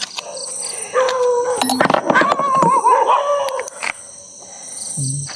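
Several dogs bark and howl together at an outdoor spot at night, with wavering howls, sharp barks and clattering knocks close by, fairly loud and continuous.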